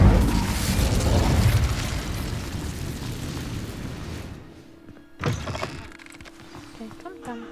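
A blast from the Incendio fire spell in Hogwarts Legacy, a loud roaring whoosh of flame that fades after a few seconds, followed by a sharp pop and quieter game sounds, with character speech nearby.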